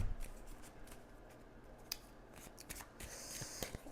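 Tarot cards handled and laid out for a Celtic cross spread, giving soft scattered slaps, snaps and brushing taps over a quiet room, with a brighter flurry of card contact near the end.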